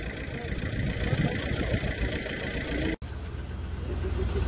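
A car engine idles steadily at close range, a low continuous rumble with one brief dropout midway.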